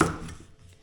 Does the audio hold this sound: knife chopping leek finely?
yes